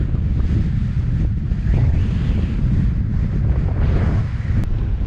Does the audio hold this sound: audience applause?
no